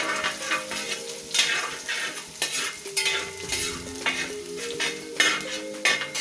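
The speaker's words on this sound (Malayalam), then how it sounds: "ഇഞ്ചിയും വെളുത്തുള്ളിയും അത്യാവശ്യം സോട്ടായിട്ടുണ്ട്." Ginger and garlic sauté in a pan for chicken curry, sizzling steadily while a utensil stirs and scrapes in irregular, close clinks.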